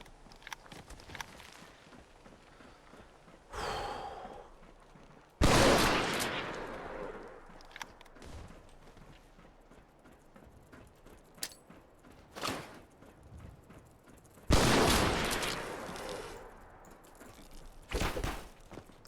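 Gunfire from a modded Fallout 4 firefight, with several loud bursts of shots separated by quieter stretches of footsteps and faint background game noise.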